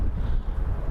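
Strong wind at Birmingham Airport buffets the microphone with a constant low rumble, steady and loud throughout.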